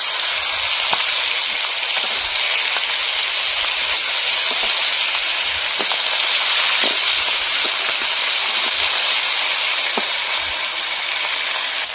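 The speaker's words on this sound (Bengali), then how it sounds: "মাছ ভাজা হয়ে গেছে, তুলে নেব।" Fish fries in hot oil with a continuous loud, dense hiss and crackle, close up, with a few faint pops scattered through it.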